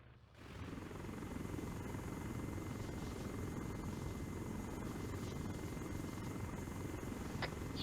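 A helicopter in the Arma 3 video game lifts off and departs after unloading troops, its rotor and turbine roar loud, steady and continuous after a brief quiet start, with no voices.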